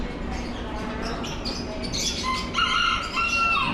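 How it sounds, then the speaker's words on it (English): Chickens at a bird farm, with clucks and short calls rising over a busy background of other birds and chirps, a bit louder toward the end. "Got some chickens."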